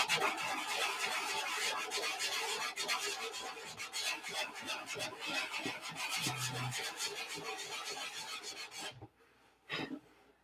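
Hand sanding body filler, open-handed without a block, to feather its edges: a continuous close scratchy rasp of rapid strokes for about nine seconds, then a pause and one brief final stroke.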